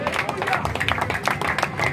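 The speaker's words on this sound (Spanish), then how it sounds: "Denle un aplauso al Señor fuerte." A church congregation applauds during a worship service, a busy spread of clapping hands mixed with cheering and crowd voices, steady and fairly close throughout.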